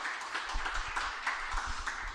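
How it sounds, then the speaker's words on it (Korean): An audience in a lecture hall claps to thank a lecturer, a soft, fairly distant patter of applause that holds steady for a couple of seconds. "우리 박수로 감사해"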